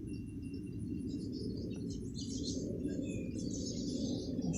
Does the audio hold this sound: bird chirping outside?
yes